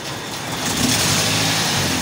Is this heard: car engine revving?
yes